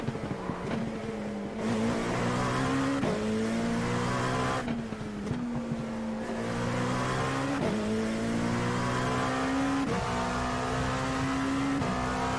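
A race car's engine in a racing video game revs up and drops through repeated gear shifts in a rising, stepped pattern, loud and continuous with the tires audible underneath.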